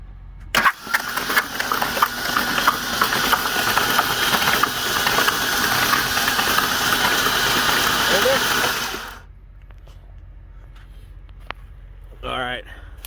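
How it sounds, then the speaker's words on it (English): Hydrolocked engine with its spark plugs removed, cranked over by the starter in a long loud continuous whirring churn for about nine seconds, then a stop, with brief voices afterward. "we're gonna go ahead and crank it over and see if we can't get anything out of the cylinders"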